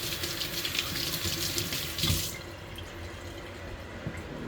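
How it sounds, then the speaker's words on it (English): Tap water runs steadily to rinse a sponge soaked in oxalic acid, a close, continuous splashing that stops abruptly halfway through, leaving a quiet room. "And then rinse it off."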